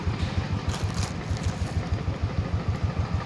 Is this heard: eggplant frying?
no